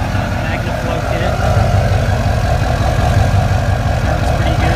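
A 2003 GMC Sierra Duramax diesel pickup with a 5-inch straight-pipe turbo-back exhaust rumbles at a steady idle, a loud, continuous low drone throughout.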